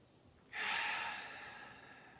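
A deep yoga breath taken during a beginner session, a single long airy inhale or exhale that starts abruptly and then slowly fades, close and fairly soft with no talking over it.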